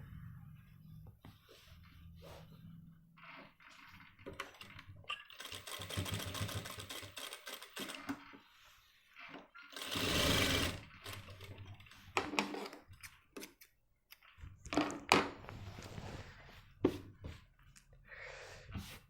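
A sewing machine stitches a men's pant front pocket in irregular short runs of fast mechanical ticking, separated by pauses and handling noise, close and fairly quiet.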